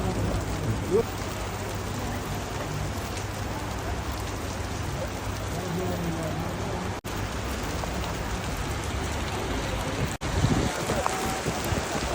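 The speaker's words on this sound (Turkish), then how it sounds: "aniden bastıran bu sağanak yağış aslında iyi geldi." A sudden summer downpour in Yüksekova drums steadily and loudly on surfaces, a dense continuous hiss of rain that holds through the whole stretch with only brief dropouts.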